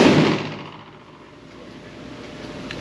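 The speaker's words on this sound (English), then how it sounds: "we are shooting Target right now, and we are going to get our first shot" A single shot from a Smith & Wesson M&P 22 Magnum pistol firing CCI Target ammunition: one sharp, loud, close crack at the start that fades into a lingering outdoor echo.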